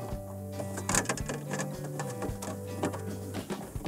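A screw is driven into a Whirlpool refrigerator's cover, giving a faint, close mechanical whirring and clicking with uneven ticks over a few seconds.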